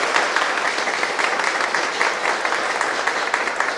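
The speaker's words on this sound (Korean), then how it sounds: "우리 환영의 박수 한번 쳐드리겠습니다." A church congregation at a Sunday service claps in welcome for a visiting guest, dense, even applause filling the room for a few seconds.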